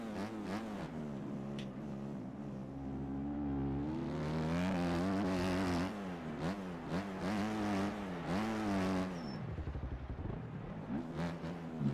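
Motocross bike engine in the MX Bikes racing game, revving hard and continuously with rising and falling pitch as gears shift, loud and close throughout the race.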